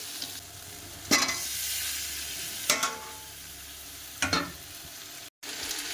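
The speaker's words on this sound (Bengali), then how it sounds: "ফুলকপি তরকারির জন্য মশলাটাকে কষিয়ে নিচ্ছি" Spiced masala with fried potato and cauliflower sizzles steadily in a pan for a cauliflower curry, with three sharp bursts of stirring scrapes and a brief silent gap near the end.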